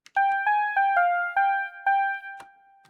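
E piano 2 synth patch picking out a short melody of about eight bell-like electric piano notes, each struck cleanly and decaying, close and alone.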